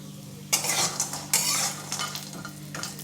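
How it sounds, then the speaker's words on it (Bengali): Bori lentil dumplings frying in hot oil in a kadai, producing loud, close sizzling bursts and crackles as they are stirred, with occasional light metallic clinks of the spatula against the pan. "এবার বড়িগুলো ভেজে নেব তেলটা গরম হয়ে গেছে"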